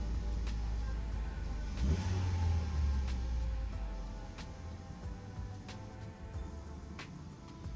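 Ford Focus engine, running while its clutch and engine mount are checked for vibration, rises from idle past 1500 rpm in a steady low hum. The revs swell briefly, then settle back.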